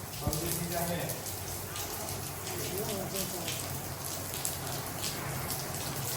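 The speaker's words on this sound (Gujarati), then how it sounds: "ધીમો ધીમો વરસાદ શરૂ થઈ ગયો છે" Soft, light rain patters steadily throughout, faint and even, with occasional slightly louder drops against a quiet background.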